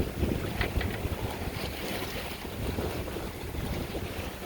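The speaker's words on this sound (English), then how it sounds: "Much more fun today, more wind, tons better than yesterday's sail." Steady wind roars over the microphone aboard a Catalina 42 sailboat during a race, with water rushing and waves washing beneath in a continuous, fairly loud wash and no talk.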